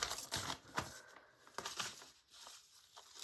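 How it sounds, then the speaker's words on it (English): A paper mail envelope being opened up close, with crisp tearing and crinkling rustles in several short bursts, with no talking. "Let's open another envelope."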